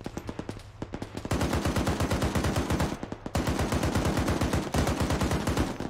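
Rapid automatic gunfire in the military sim game Arma 3, long loud bursts of rhythmic shots with brief pauses between them, close and dominant with no talk over it.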